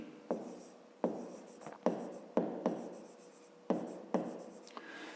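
A pen scratches on paper while notes are written during a fifth-grade math lesson, a series of about eight distinct, close strokes in uneven rhythm, with no talk over them.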